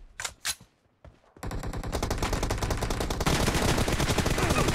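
Gunfire in the mobile battle royale game BGMI, heard as a couple of isolated shots followed by loud, sustained rapid automatic fire that continues and intensifies to the end, with no talking.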